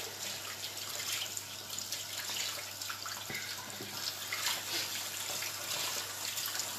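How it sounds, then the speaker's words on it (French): Water runs and splashes steadily nearby as a face is rinsed with a konjac sponge, with small drips and splashes over a continuous flowing hiss and no talking. "Moi je viens prendre une éponge Conjac pour venir rincer."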